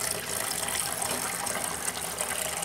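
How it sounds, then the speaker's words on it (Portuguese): Running tap water gushes in a steady, close stream over herbs for melão-de-são-caetano, a brief unbroken splashing wash. "em água corrente"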